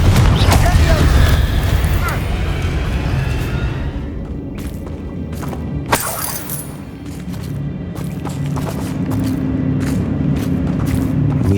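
Confringo blasting-spell explosions from the Hogwarts Legacy video game, a loud rumbling boom early on followed by a sharp blast around midway, with scattered thuds and crackles over a constant game ambience and a voice speaking.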